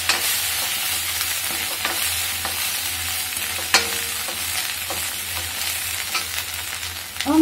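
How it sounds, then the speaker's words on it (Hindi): Ginger and green chili paste fries loudly in a pan for shahi bhindi gravy, a steady dense sizzle with occasional scraping stirs and one sharp clink near the middle. "अदरक हरी मिर्च पीस के हमने पेस्ट बनाया था, वो डालेंगे, उसको फ्राई करेंगे"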